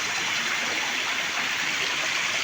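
Steady rushing flow of a rain-swollen stream, a continuous close wash of water with no voices.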